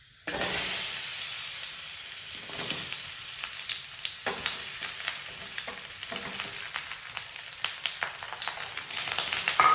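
Finely chopped ripe plantains sauté in a pan, an even sizzling hiss with a dense run of light taps and scrapes from stirring, one sharper knock partway through, and the sizzle swelling toward the end.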